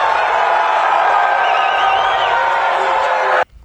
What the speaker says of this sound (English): See, you have libertarians there booing